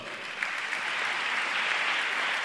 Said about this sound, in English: Give a big round of applause for the team SAMARPAN.